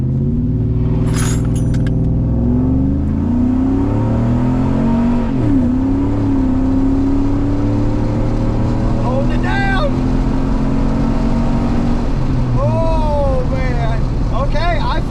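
A 2005 Chevrolet Silverado pickup launching on a 50-shot nitrous system, a loud sustained engine drone that climbs in pitch through the run, with voices heard faintly over it.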